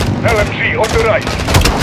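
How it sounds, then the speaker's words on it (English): Rapid bursts of light machine gun fire in Call of Duty: Modern Warfare 2 crackle loudly through a short battle scene, mixed with shouted voices and other combat noise. "LMG on the right!"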